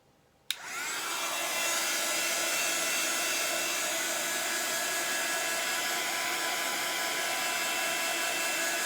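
Hair dryer blowing over wet watercolour paint on paper, switched on abruptly after a moment of quiet and then running as a steady, loud, unbroken whoosh to the end.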